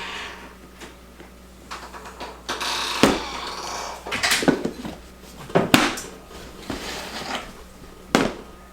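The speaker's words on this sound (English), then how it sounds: "drop the meat in there and put the lid on and shake it up real good" Meat and salt-and-pepper seasoned flour shaken in a lidded container, giving a run of irregular rattling, thumping bursts close by, loud and alone with no talk.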